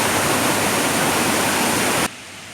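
Kaigal waterfall in Chittoor district roars as a loud, steady broadband rush of falling water, close by, then cuts off abruptly near the end.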